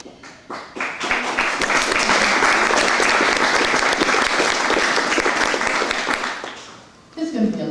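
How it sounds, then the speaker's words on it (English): A large crowd at a university commencement ceremony breaks into loud, dense, sustained applause that swells quickly, holds steady, then fades, followed by a voice beginning to speak. "There's going to be a lot of applause today."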